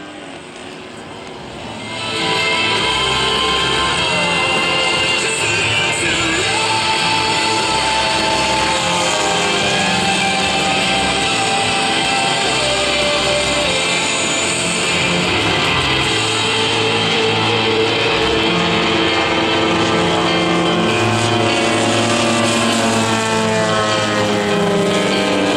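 Aerobatic airplane engine snarling through an inverted flat spin at an air show, a loud sustained propeller drone with wavering, shifting pitch that swells in after a quiet start and holds for the rest.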